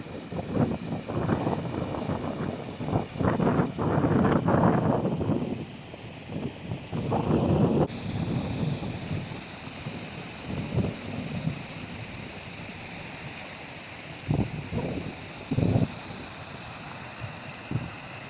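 Gusty wind buffets the microphone in loud bursts, dropping to a softer steady rush with occasional thumps, outdoors in cold weather in Lahti, Finland.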